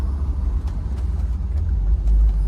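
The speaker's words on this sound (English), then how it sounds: "In fact, we can give you a little bit of a brake test now." Low engine rumble from a 1971 Dodge Challenger with a 340 small-block V8, heard from inside during a braking test as the car rolls and slows, with soft scattered knocks over a steady drone.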